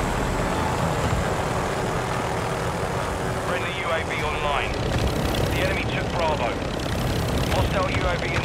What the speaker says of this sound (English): Hostile chopper gunner in the AO.